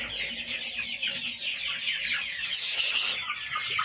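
Free-range country hens cluck and chatter continuously close by in a farmyard flock, a dense overlapping stream of calls with one sharper, louder squawk near the end.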